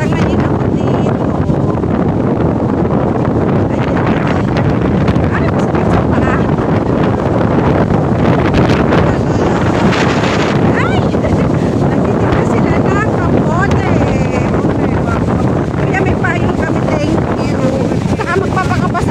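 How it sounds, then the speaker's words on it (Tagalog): Strong wind roars constantly into the microphone at D'Mall, Boracay, a loud unbroken buffeting rush that lasts throughout, with speech partly buried underneath. "Ang takas na ng hangin pa."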